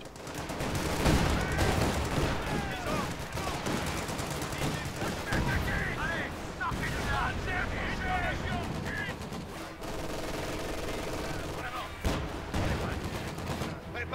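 Battle sounds from the World War II strategy game Company of Heroes 2, set in the Ardennes: dense, continuous gunfire with bursts of machine-gun rattle and heavier booms, loud and layered, with game voices calling out in between.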